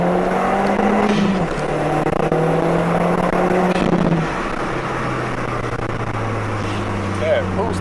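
Turbocharged Audi TT engine pulling hard under acceleration, a loud steady drone inside the car with rising pitch, then a gear change partway through, while people talk over it.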